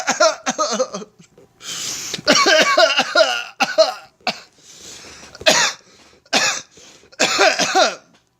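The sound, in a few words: coughing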